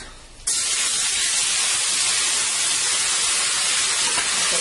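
Seasoned stew meat dropping into hot oil sets off a sudden loud hiss after a quiet start, then a dense, steady sizzle held close at full strength.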